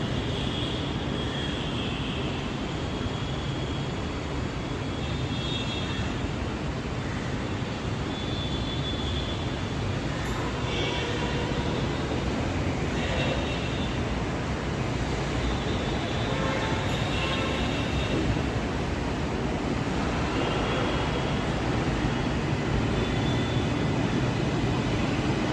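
A Kolkata Metro train draws into the platform, a loud sustained roar of motors and wheels that fills the station evenly throughout, with faint squeals and no speech.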